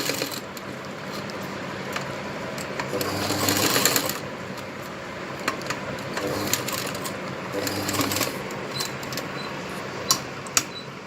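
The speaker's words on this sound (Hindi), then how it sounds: "पहले आप इस तरीके से स्टिच कीजिए" A sewing machine stitches blouse fabric, a faint, steady mechanical whir running throughout with slight swells in intensity and a couple of small clicks near the end.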